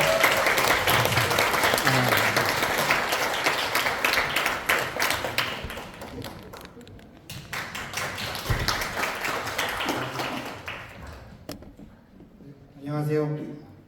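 Audience applause at a youth seminar in a small National Assembly meeting room, sustained clapping that fades midway, swells again, then dies out before a brief voice at the end.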